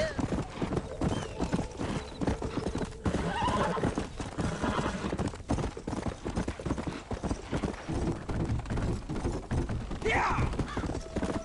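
A horse gallops in Red Dead Redemption, rapid clip-clop hoofbeats running throughout with neighs rising over them, while a rider shouts intermittently above the hooves.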